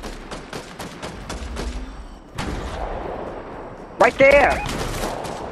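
Rapid gunshots in the Fortnite battle royale game crack in a quick volley, then pause before a second burst of loud shots near the end, while a player talks briefly.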